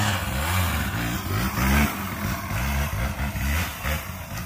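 A trail motorbike engine rides through steep, tight woods, its revs rising and falling in steady, uneven surges as it putts and accelerates close by, with no talking.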